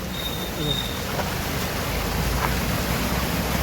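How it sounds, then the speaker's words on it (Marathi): Water rushes continuously in a dense, steady wash as an overflowing lake pours into a drain during heavy rain, with no pauses. "तलाव भरून वाहतं आणि त्याचं पाणी बघा किती मस्तपैकी अगदी वाहून जातं गटारामार्फत"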